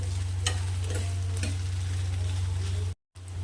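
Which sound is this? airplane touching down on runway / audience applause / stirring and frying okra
stirring and frying okra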